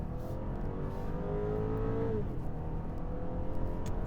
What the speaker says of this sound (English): Sounds pretty nice acceleration, although I don't expect anything less on BMW